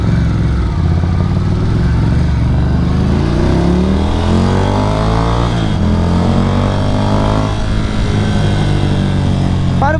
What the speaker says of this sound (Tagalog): Init na ng makina niya.